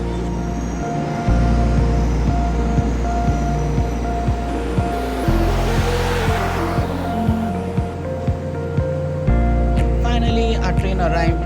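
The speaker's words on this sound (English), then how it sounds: "Our train arrived dot on time." A train pulls into a railway station on a trip to Mumbai, with loud sustained rumbling, a rising hiss of passing carriages and repeated rhythmic clatter of wheels over rail joints up close.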